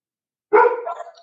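A single dog bark, close and fairly loud, snaps out after half a second of silence and trails off into a short, fading tail, with no voices around it.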